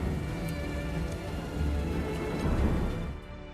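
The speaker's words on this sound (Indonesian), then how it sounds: "Deras hujan diiringi petir menghiasi suasana gelap di malam itu" Heavy rain pouring down at night in a film scene, a dense continuous roar of falling water with low rumbling underneath that fits distant thunder, steady and loud throughout.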